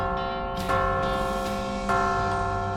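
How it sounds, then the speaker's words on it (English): A large bell in the West of Loathing video game rings with clear, sustained tones, struck twice in the short stretch and ringing on steadily between strikes. "It's a pretty good bell. Nice clear tones."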